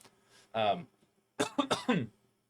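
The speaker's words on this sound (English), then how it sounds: "Sorry, I had to cough." A single cough, then a short burst of several rough coughs or throat-clearing, close and fairly quiet.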